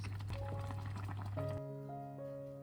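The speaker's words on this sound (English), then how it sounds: "It is now cooked. Drain the excess water away." Cooked noodles being drained of excess water, a steady splashing pour over a sink, ending as the flow cuts off with tonal music continuing behind.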